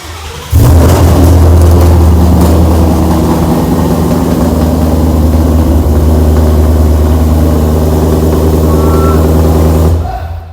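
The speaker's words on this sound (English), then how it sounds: "We're gonna go ahead and throw a booster on it and crank it up." A wrecked supercharged 2017 Mustang GT 5.0 with full exhaust cranks and fires, then settles into a loud, rumbling idle with deep steady tones close by. It cuts off abruptly about ten seconds in.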